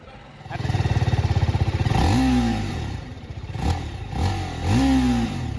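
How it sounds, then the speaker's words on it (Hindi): A TVS Apache RTR 310 motorcycle engine cranks and catches, then idles and revs in a few short bursts, loud and close with a rattling exhaust. "Let's switch on this bike."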